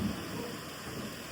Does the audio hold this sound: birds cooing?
no